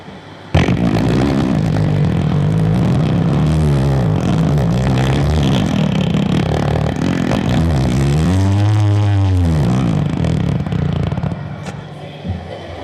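A voice imitates a motorcycle engine, a loud buzzing drone that rises and falls like revving, held for about ten seconds before fading.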